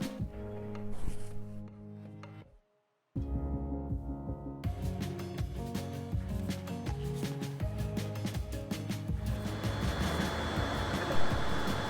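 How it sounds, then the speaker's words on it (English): A dense, steady whirring drone like many vacuum cleaners running at once, with tonal hums and fan noise, continuous and fairly loud outdoors, from Teslas charging at a Supercharger station. "it's the sound of all the Teslas supercharging."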